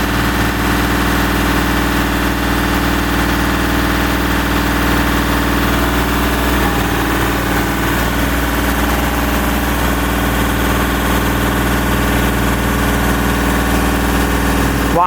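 A man lift's engine runs steadily at a loud, even idle with a constant low drone and vibration while its telescopic boom extends to reach a boat for servicing; the tone shifts slightly midway, with no talk.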